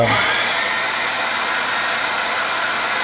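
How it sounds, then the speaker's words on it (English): A hair dryer roars loudly and steadily at close range, a constant rushing whine of air throughout. "we're going to pull out our old trusty hair dryer"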